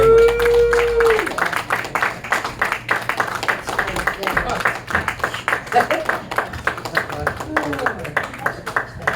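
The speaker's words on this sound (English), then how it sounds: "Round of applause for Mr. Tyll." Audience claps at a comedy club show, a dense rhythmic patter of many hands near and steady, with a voice talking over the start and a few cheers mixed in.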